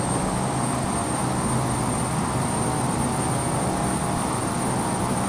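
A simulated airplane applies reverse thrust in a flight simulator game, a loud, steady, unbroken jet-engine roar with a high whine, constant in level and without pauses.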